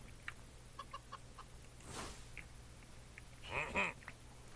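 Minecraft chickens cluck in short bursts against a low steady game hum, with a louder cluster of squawks near the end.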